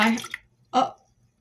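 Water splashes out of a jar, a short watery burst after a moment of quiet, close and fairly loud, preceded by an earlier splashy rush.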